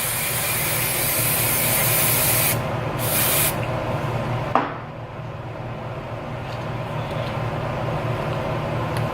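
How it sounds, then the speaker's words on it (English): Holding hair spray hisses from an aerosol can in two quick close bursts, followed by a soft click against a quiet background hum. "And I use some holding spray."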